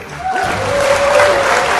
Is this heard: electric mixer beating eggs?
no